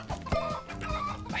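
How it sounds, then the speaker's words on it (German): Chicken clucking in the video game Oddballers, a few short throaty clucks over busy game sounds, fairly quiet and brief. "Also das eine Huhn hier, ne?"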